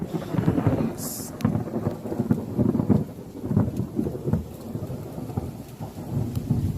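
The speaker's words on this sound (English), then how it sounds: "I haven't seen lightning like this in a long time. And this much of it at a time, too." A thunderstorm over Cincinnati brings heavy rain and repeated rumbling thunder, loud and close, with rolling booms rising and fading over the steady downpour.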